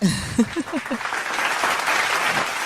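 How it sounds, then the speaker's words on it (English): A crowd applauds steadily, a dense wash of clapping that rises just after a voice speaks briefly at the start. "Can we get a hand clap for that?"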